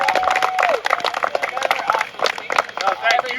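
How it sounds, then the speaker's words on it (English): A crowd of fans at a filming-location event for The Strangers: Prey at Night claps, a dense burst of hand claps and cheering voices mixed with loud, overlapping talk close by. "Let's give one last round of applause for the strangers."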